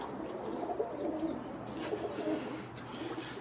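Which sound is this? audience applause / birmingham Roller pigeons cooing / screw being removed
birmingham Roller pigeons cooing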